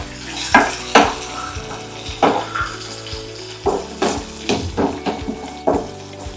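Sesame seeds fry in oil in a pan, stirred with spoon clanks and scrapes that come every second or so over a soft, intermittent sizzle. The sound is close and fairly loud.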